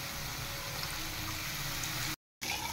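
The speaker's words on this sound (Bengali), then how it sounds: "এবার আমি দিয়ে দেব জল" Water goes into a pan of frying spices for a hilsa fish curry, making a steady dense sizzling hiss. It cuts out abruptly for a moment near the end, then resumes.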